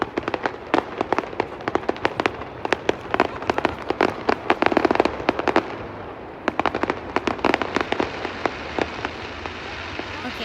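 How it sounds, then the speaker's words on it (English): Canada Day fireworks on July 1st crackle and pop in dense, rapid bursts, a steady barrage of sharp reports heard from a moderate distance for several seconds. "Fireworks, July 1st, Canada Day."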